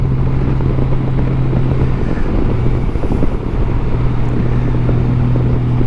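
A 2021 Honda Goldwing DCT motorcycle runs under steady, loud engine and wind roar while riding, with a continuous drone that holds through the gear changes and no voices.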